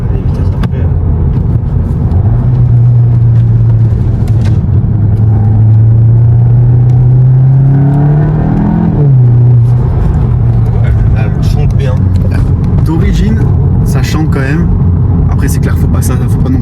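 Heard from inside the cabin, a Volkswagen Golf 7 GTI Performance engine drones steadily, its tone climbing and then falling back as it pulls, while people talk over it.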